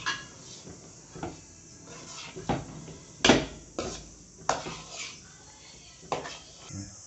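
Payasam being stirred in a cooking pot, with several sharp scraping knocks of a spoon against the metal spaced a second or so apart, close and moderately loud over a quiet background.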